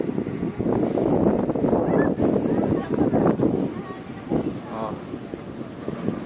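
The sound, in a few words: strong wind while riding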